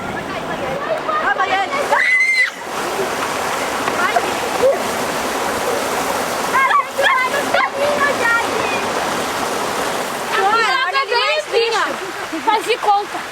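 Steady rushing water pours over a dam on a small stream, a loud continuous splashing roar that runs the whole time while people talk and call out over it.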